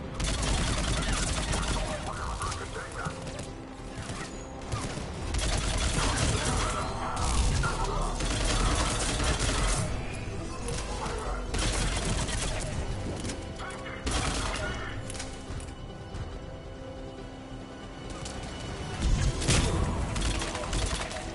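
Sustained gunfire at a checkpoint in Mass Effect 3, rapid bursts and volleys rattling on and off for about twenty seconds with thuds and a few sharp impacts, voices speaking now and then under the shooting.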